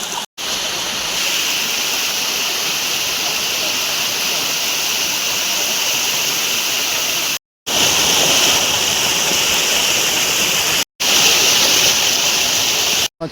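Cold water rushing in a stream on the walk toward Bhivpuri waterfall makes a loud, constant roar close by, broken only by a few brief cuts.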